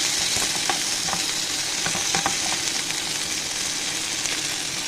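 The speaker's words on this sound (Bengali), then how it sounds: "হালকা করে একটু টমেটোটা ভেজে নেবো।" Tomato fries in oil in a pan for a potato curry, a loud, steady sizzle running throughout, with faint spatula scrapes now and then and no voices.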